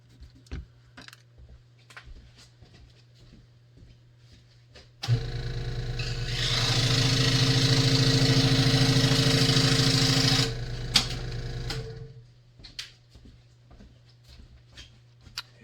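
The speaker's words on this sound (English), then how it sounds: "I'm gonna go cut a piece of MDF" A power saw cutting a piece of MDF: a loud, steady whining drone that starts abruptly, runs for about six seconds and winds down, framed by quiet workshop clicks and handling taps before and after.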